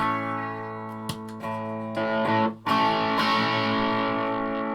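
Heavily distorted electric guitar, a vintage Gibson SG with its pickups switched out of phase, rings out with a thin, hollow tone, several picked notes and chords sustaining with no one speaking.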